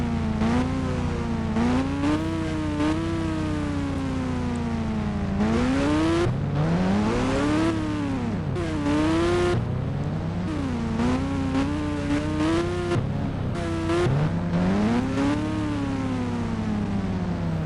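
A KTM motorbike in the video game Indian Bikes Driving 3D revs continuously, its engine pitch sweeping up and down in repeated waves as it accelerates and eases off, with no talking.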